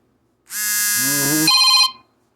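A phone ringtone plays one loud, clear electronic melody for about a second and a half, then stops.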